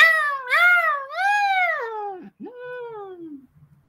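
A singer imitates a cat in a song, voicing long wavering meow-like wails that rise and fall in two or three drawn-out phrases, loud and close with no backing sound.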